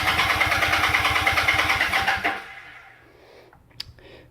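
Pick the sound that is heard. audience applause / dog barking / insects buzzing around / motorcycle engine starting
motorcycle engine starting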